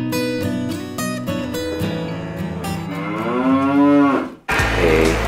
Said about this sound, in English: Tons of little baby cows.